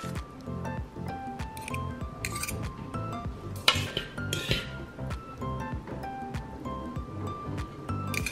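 A layered raw vegan salad with honey mustard vinaigrette being tossed in a bowl, clinking of utensils against the dish with soft wet squishes, close and irregular.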